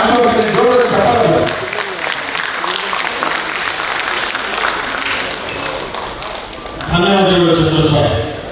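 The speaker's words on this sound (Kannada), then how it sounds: "ಜೋರದ ಚಪ್ಪಾಳೆ" Loud, sustained applause from an audience at a gathering, a dense wash of clapping that runs for several seconds between stretches of someone speaking over a microphone.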